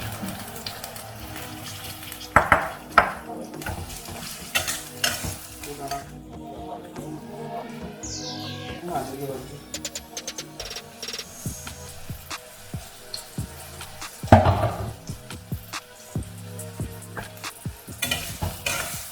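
Chopped onions frying in plenty of hot mustard oil in a kadai for a fenugreek chicken dish, a continuous close sizzle with repeated scraping stirs and occasional sharp clanks of a spatula against the pan.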